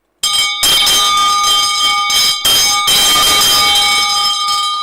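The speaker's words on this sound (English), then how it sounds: "So I'll ring the bell twice," A bell rings loudly and up close during a morning devotion, a bright metallic clanging with sustained ringing tones, struck in a few bursts separated by brief gaps.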